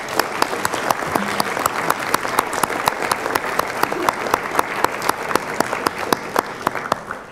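A university audience gives a hearty round of applause for an event committee, close, dense clapping with sharp individual claps popping out above the crowd, steady for several seconds.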